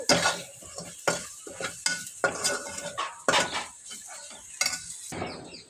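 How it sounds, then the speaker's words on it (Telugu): A spoon stirs chili powder and coriander powder into potato kurma in a pan, making repeated close scraping clinks against the metal over a light sizzle, with no talking. "కారం హాఫ్ టీ స్పూన్ ధనియాల పొడి వేసి ఒకసారి కలబెట్టండి"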